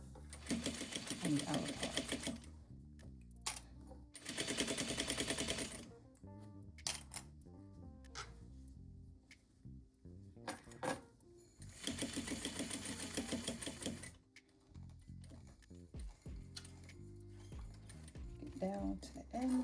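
A sewing machine stitches a zippered pouch in bursts of rapid running broken by pauses, moderately loud and close, with a person talking between and over the runs.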